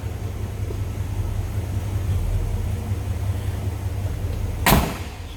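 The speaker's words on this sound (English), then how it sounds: "See how nice that door closes and fits" A single solid thump of a 1962 Oldsmobile Dynamic 88 Holiday Coupe's door shutting near the end, over a low steady rumble of background noise.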